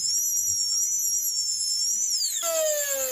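A high-pitched whining wood profile router spins steadily, its pitch dropping and shifting as it bites into coconut wood, loud and close.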